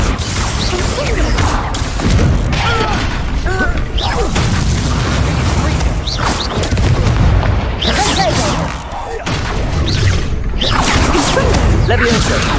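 Confringo spell explosions burst in Hogwarts Legacy duels, loud repeated booms and whooshing blasts mixed with other spell impacts and shouted incantations throughout.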